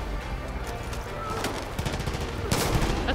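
Rapid bursts of gunfire in the video game Far Cry 5, with sharp shots in quick clusters, loud and close, and a heavier burst near the end.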